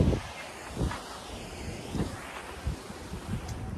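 Gusty outdoor wind on a cloudy day after a hike buffets the microphone in low, uneven bursts, with soft rustling between gusts and no talk.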